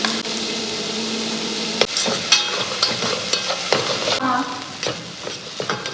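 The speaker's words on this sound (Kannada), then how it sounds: "ಸ್ವಲ್ಪ ಫ್ರೈ ಆದಮೇಲೆ ನಾನು ಆನಿಯನ್ ಆ್ಯಡ್ ಮಾಡ್ತಾಯಿದ್ದೀನಿ" Onions frying in a pan with a steady close sizzle, while a utensil stirs and scrapes against the pan in irregular knocks and clatters. No one talks.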